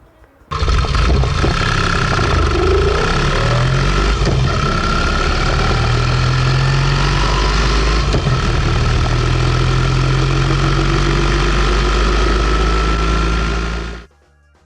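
A Sunbeam S8 motorcycle engine starts abruptly and runs at a steady, loud, close idle with a deep, even throb for about thirteen seconds before cutting off, with no voices.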